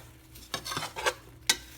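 A spoon stirs marshmallows into melted butter in a pot over very low heat, making several soft, close scraping and squelching strokes over a faint background sizzle.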